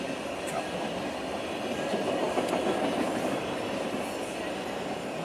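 A freight train with black and white tanker cars rolls past at speed, a steady broad rumble and roar of wheels and cars, fairly close, with faint clacks and squeal hints; no voices heard.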